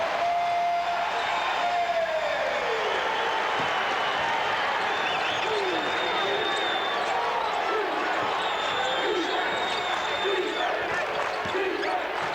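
Basketball arena crowd during a 2000-2001 SMU versus Tennessee college game, a loud continuous roar of cheering and applause filling the whole stretch, with whistles and shouts rising over the dense crowd noise.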